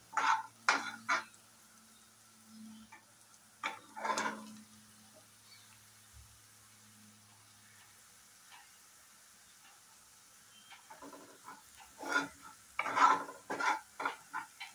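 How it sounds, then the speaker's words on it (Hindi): Sev tomato curry masala is roasted in a pan, with scattered bursts of spatula scraping and soft sizzle at the start and again near the end, separated by long quiet stretches. "अभी मैं इसे भून के ले रही हूँ अच्छे से।"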